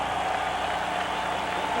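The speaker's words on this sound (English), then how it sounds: "how about a round of applause for these 2 heavyweights in the ring here tonight?" A crowd at a heavyweight boxing match between George Foreman and Alex Stewart applauds after the fight, giving a steady, dense wash of clapping and crowd noise filling the arena for a brief moment.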